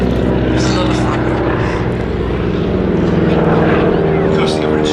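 Propeller biplane flying a wingwalker display at the Midlands Air Festival, a loud continuous engine and propeller drone with a voice heard under it.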